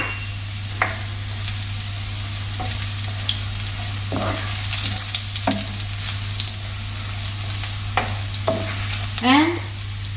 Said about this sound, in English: Just saute it a little, no need to brown it.